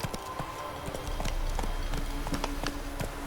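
Roach, Geralt's horse in The Witcher 3: Wild Hunt, gallops with quick, rhythmic hoofbeats pounding steadily over continuous rumbling ambience, close and loud.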